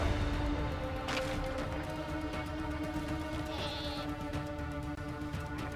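A sheep bleats faintly over a dense, steady bed of music and ambient noise in a video game trailer shown at Gamescom 2023 Opening Night Live.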